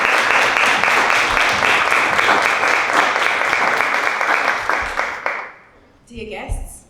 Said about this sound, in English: A warm welcome applause, please.